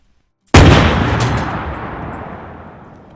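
A single heavy blast from a Pak 40 anti-tank gun in Arma 3, firing once after a short silence with a sharp, loud onset followed by a long, slowly fading rumbling tail.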